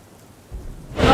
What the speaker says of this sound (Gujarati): સુરત શહેરમાં વહેલી સવારથી જ વરસાદી માહોલ જે જોવા મળી રહ્યો છે